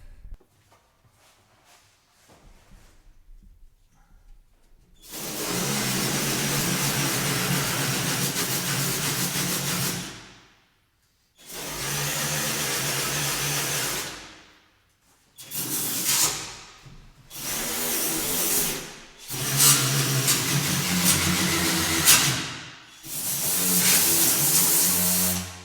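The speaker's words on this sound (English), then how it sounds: "So this is how you sand the clear coat away to be able to fix it." Clear coat is sanded off a dented car panel during paintless dent repair with a power PDR box, a loud, rough abrasive rasp that comes in long bursts separated by short pauses.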